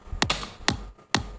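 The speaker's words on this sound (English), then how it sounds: "a kick without the low" Kick drum from the Arena 6 sample, EQ'd with the lows almost fully cut and mids and highs lifted, hitting three times as short, clicky, thin thumps, close and dry, with no voices.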